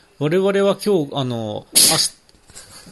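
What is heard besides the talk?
sneeze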